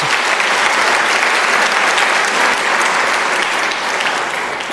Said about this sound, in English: Can I request a round of applause for that?